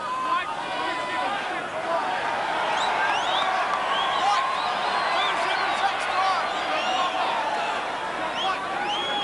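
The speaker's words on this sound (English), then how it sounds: "The cheering you hear is for a very quick change of shorts by Jeff Wilson." Stadium crowd at the 1997 All Blacks versus South Africa rugby test at Eden Park, cheering as a continuous broad roar with whistles and shouts rising through it, under a commentator's voice.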